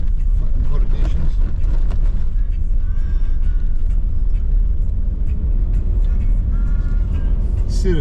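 A vehicle drives along a corrugated gravel road bypass in south-west Western Australia, giving a steady, loud rumble and rattle that runs through the whole stretch with no talk over it.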